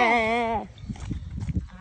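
A sheep at a farm bleats once, loud and close, a wavering cry lasting about half a second, followed by people talking nearby.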